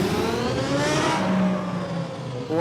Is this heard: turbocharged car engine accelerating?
yes